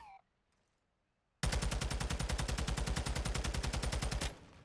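TAQ 56 rifle gunfire fitted with a barrel in a video game, heard as one loud, rapid full-auto burst of about three seconds with even rhythm, preceded by near silence and ending abruptly.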